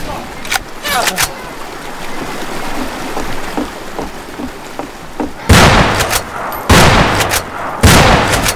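Gunshots in Fistful of Frags on hard mode, sharp loud reports, a few early isolated shots then a heavy cluster of close, booming blasts in the last three seconds, with a voice talking in between.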